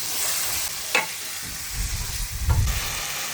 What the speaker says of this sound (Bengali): মাছটা আমি কষাই নেব